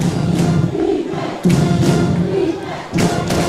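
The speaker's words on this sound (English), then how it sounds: "Crowd into it now." A crowd roars and cheers at a high school football game between the Seneca Golden Eagles and Williamstown Braves, a loud, continuous swell with heavy thumps and surges of noise.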